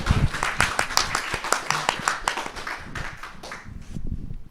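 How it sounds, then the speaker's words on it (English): A small audience at a book club session claps in a close, uneven patter of individual hands, loud at first and thinning out before a brief swell at the end. "massive round of applause, please"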